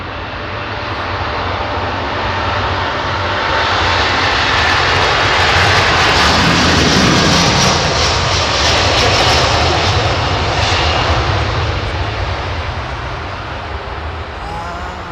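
A jet airliner takes off from London Heathrow, a loud, broad engine roar that builds to a peak midway and then slowly recedes, heard alone without talking.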